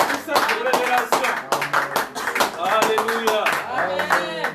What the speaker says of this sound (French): Continuez à acclamer.